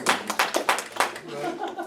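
Brief scattered applause from an audience at a stand-up comedy show in a club, a few uneven claps rising and fading under the comedian's voice.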